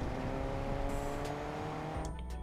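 A car drives along underwater in Fortnite, a steady, loud engine drone with a muffled, bubbly tone, cutting off abruptly near the end.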